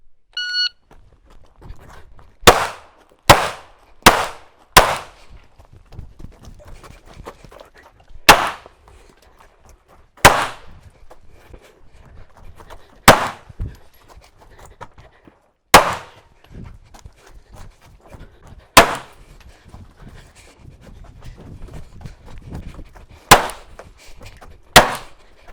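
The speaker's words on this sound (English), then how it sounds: "Aly, 12 on 12 headshots with the SAR 9X." SAR 9X pistol fired in a shooting test: about a dozen crisp, loud single shots at an uneven pace, some in quick succession and others several seconds apart, with quiet handling noise between.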